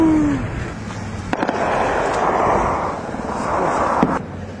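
A 122 mm D-30 howitzer fires during a Taliban attack on the Panjshir, with sharp reports against a steady rumble of distant activity.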